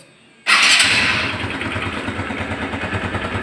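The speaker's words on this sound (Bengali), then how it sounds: "এবার স্টার্ট দিব বাইকটার ভিউয়ার্স।" A used first-owner motorcycle with 13,300 km on it kicks into life with a sudden loud start, then settles into a close, steady idle with an even pulsing thump and a faint high whine, no talking.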